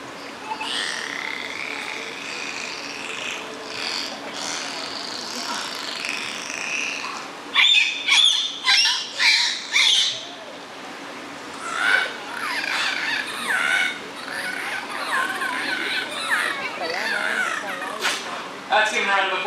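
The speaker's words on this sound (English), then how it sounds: "Pacific white-sided dolphins can be highly vocal, and they're doing a wide variety of calls" Pacific white-sided dolphins at the Vancouver Aquarium make a varied run of whistles, squeaks and rapid chirping bursts, moderately close, with stretches of talking mixed in.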